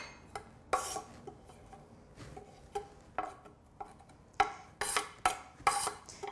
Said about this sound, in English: use your knife to scrape your chili into your little bowl